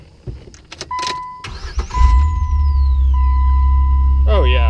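A Jeep engine fitted with a new starter cranks briefly and catches, then settles into a steady, loud idle close by, with a short spoken exclamation near the end.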